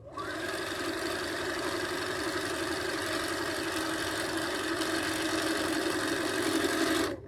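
A sewing machine stitches a heart-shaped quilt block for a table runner, running as a steady, continuous mechanical whir with a fast rhythmic hum for about seven seconds. The sound is close and moderately loud, with no talking.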